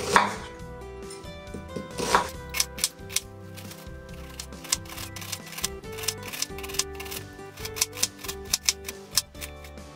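Onion being finely chopped with a knife on a board for a stuffed cabbage meat filling, a fast, steady run of crisp close-up cuts with a few louder knocks at the start, no talking.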